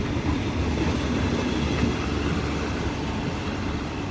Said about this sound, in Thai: นี่ก็เป็นบรรยากาศของสถานีวัดสวน